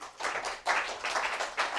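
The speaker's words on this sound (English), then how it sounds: "So I'd like you to give a warm round of applause to Dr. Ayas." Brief, thin applause from a small audience welcoming a speaker at a talk on obstructive sleep apnea, a few uneven bursts of clapping at moderate distance.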